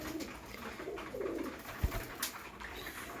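Racing pigeons kept for tournaments coo softly and steadily in a loft, with a brief low thump partway through and other faint bird sounds around them.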